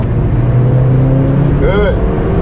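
Volkswagen Golf GTI at full power on the Nürburgring, heard from inside the car as a loud, steady engine roar with rising tones, under a voice talking.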